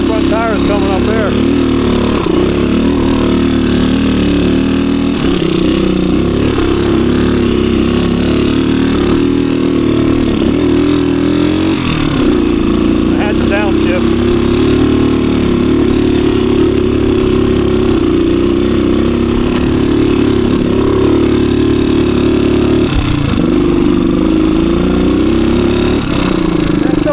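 A low-hour 1985 Suzuki DR250 dirt bike ridden through the woods, its single-cylinder engine droning loud and close for the whole stretch, rising and falling with throttle changes.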